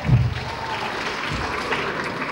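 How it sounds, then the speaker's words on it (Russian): Audience applause at a KVN comedy competition semifinal in Rostov-on-Don: sustained crowd clapping with a short low thump at the start, then an even wash of hands. "Аплодисменты!"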